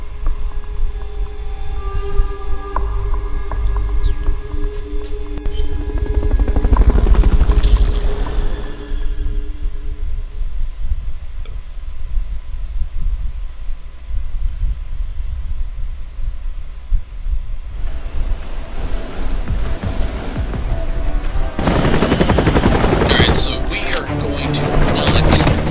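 Helicopter in Metal Gear Solid Peace Walker, a loud sustained rotor rumble with whooshing swells, under shifting game music and effects that change sharply partway through.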